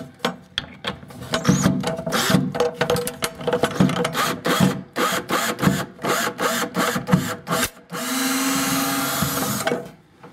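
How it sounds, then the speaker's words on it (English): Cupboard screws come out of a wall during a room renovation: loud, close bursts of rapid clicking and grinding, then a long steady whirring spin near the end, with no talk. "Okay guys, so we start by taking off the bottom screws."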